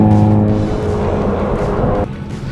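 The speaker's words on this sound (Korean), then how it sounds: "뒤에서 배기음이 엄청" A deep, throbbing exhaust rumble from a Hyundai Kona N fills the clip, steady and loud from close by, dropping slightly in intensity near the end.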